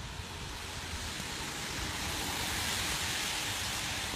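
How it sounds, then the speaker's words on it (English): Steady rain pours down during an early morning thunderstorm in a continuous broad hiss, even and unbroken, with no voices. "The nice calm sounds of the rain falling."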